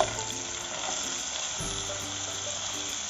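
Cut cowpea pods hit a hot pan in a village-style kitchen and sizzle steadily, a close, continuous frying hiss with a brief louder burst partway through.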